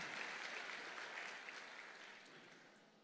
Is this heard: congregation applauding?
yes